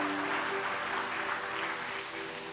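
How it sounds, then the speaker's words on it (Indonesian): A church congregation applauds together, a dense, sustained wash of clapping that fills the room and tapers slightly near the end, with no speech over it. "Kasih tepuk tangan luar biasa buat Tuhan."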